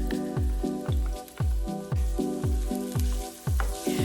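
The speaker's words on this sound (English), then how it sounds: "Test out how hot your oil is by throwing a little piece of onion in first. Once it starts sizzling, you can add all the rest." Onion pieces sizzling in hot oil in a pan for pasta e fagioli, loud crackling fry broken by a regular series of sharp knocks or taps about every half second, close up with no talk.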